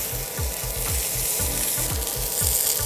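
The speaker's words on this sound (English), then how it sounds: "Char some tomatoes and onions, a little bit of oil, add some onion, a few tomatoes." Tomatoes and onions char in a little oil in a hot pan, giving a steady crackling sizzle over a regular series of low knocks and scrapes from stirring, with no voices.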